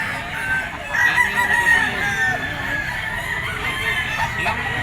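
A gamecock stag rooster crows nearby, a loud drawn-out crow rising then trailing off, followed by clucking amid farmyard background noise.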